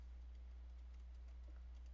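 Fast, light typing on a computer keyboard, a soft steady patter of key clicks over a constant low hum.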